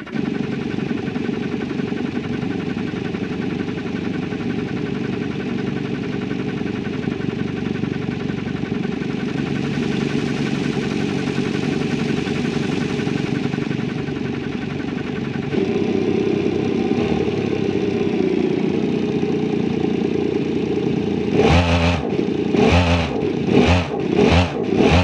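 Car engine in the BeamNG driving game struggling to start, a steady rough drone that grows louder partway through, then ends in a series of sharp rhythmic revving bursts. No voices.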